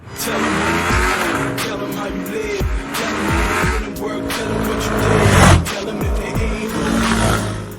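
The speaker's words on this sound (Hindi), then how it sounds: "एक्सेलरेशन का टेस्ट जिसमें मैंने और कैफी ने बारी बारी से एरोक्स और R15 को राइड किया" A Yamaha R15 and a Yamaha Aerox 155 accelerate hard in turns, their engines revving up in rising, sweeping tones that pass close by with loud road roar throughout.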